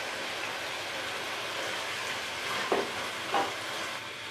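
Onion paste frying in a pot of tender mutton karahi, a steady close sizzle with two brief stirring scrapes near the end.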